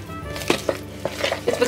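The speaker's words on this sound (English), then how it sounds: "now I just need to stir this all together and allow it to cool" A spoon working through a melted baking mixture in a bowl, with a quick run of close clinks and scrapes against the bowl at an uneven rhythm.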